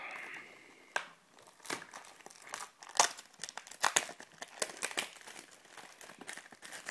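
Foil wrapper of a Pokémon card booster pack being torn open and crumpled close up, a series of sharp crinkling bursts and tearing rustles in irregular rhythm with no talking.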